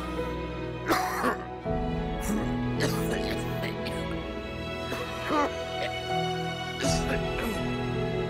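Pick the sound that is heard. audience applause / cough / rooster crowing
cough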